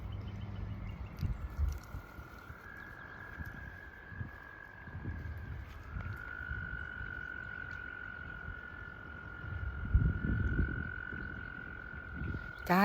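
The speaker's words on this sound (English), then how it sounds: "let's see if you can hear these very happy froggies in this area" Frogs in a nature preserve keep up a sustained chorus of croaks and trills, fairly distant, over soft outdoor rustling and footsteps.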